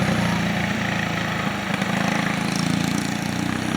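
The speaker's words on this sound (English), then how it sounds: "there's a fella out here practicing his go-kart racing" A go-kart engine drones steadily on a go-kart track beside a drag strip, a constant buzzing mid-pitched hum that stays loud and close with only slight rises in revs.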